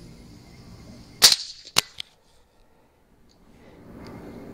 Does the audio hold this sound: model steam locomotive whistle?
no